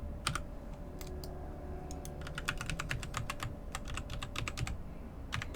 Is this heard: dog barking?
no